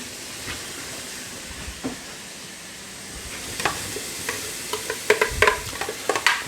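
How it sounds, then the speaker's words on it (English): Chopped onion frying in a pan for a Ghanaian domoda stew, a soft sizzle that grows busier toward the end with sharp stirring and shaking clatters, close by and without speech. "Turn the heat down a little bit while I'm cooking the onion."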